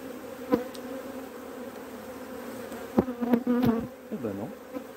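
Honeybees buzz steadily around newly opened beehives on the coast, a close continuous drone with a few louder passes from individual bees flying near.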